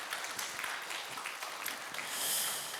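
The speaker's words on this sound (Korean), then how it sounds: "우리 축복의 박수로 한번 이렇게 환영할까요?" A church congregation at a Wednesday worship service claps in welcome, a dense spread of hands close by for under three seconds with no voices over it.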